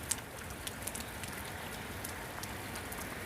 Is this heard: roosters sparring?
no